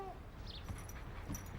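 Cartoon dog gives a brief soft whimper in a French children's animated episode, quiet and short against a low background.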